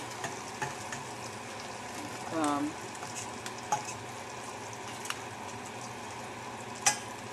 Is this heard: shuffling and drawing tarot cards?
no